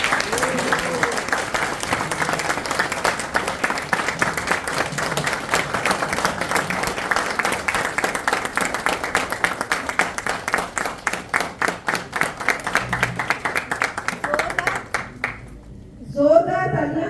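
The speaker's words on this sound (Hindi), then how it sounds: "जोरदार तालियां होनी चाहिए।" An indoor audience claps loudly and continuously for a speaker after a motivational session, a dense sustained applause that fades out near the end.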